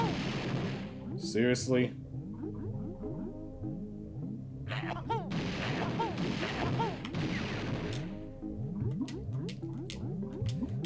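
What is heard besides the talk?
grenade eggs being fired in the video game Banjo-Tooie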